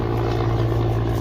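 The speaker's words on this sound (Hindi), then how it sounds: "ऊपर से हेलीकॉप्टर जा रहा है" A helicopter passes overhead above a rooftop terrace, giving a steady, loud droning hum with a deep throbbing tone that holds evenly throughout.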